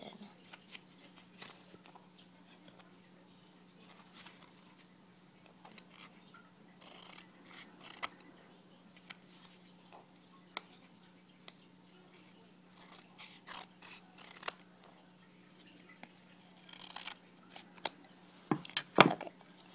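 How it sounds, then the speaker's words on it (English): Scissors cut material for a doll book bag, giving quiet, scattered snips that grow busier toward the end over a low steady hum. "I'm gonna cut it right here because it's not even."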